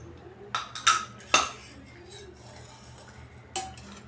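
A metal kadhai pan is set down on a gas stove in a home kitchen, making a few sharp clanks and clinks of metal on metal, close and brief, with one more knock a moment later.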